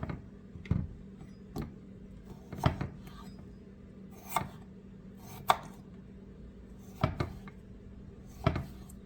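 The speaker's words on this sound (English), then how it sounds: "This is just a different way of cutting cucumbers." Cucumbers being cut with a paring knife on a cutting board for a salad, a series of separate sharp chops spaced about a second apart, faint and close with quiet room noise between.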